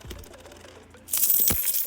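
Coins are poured into a handmade crochet coin purse, a quiet stretch of faint clicks giving way to a bright burst of jingling and clinking metal, close and fairly loud, with no talk.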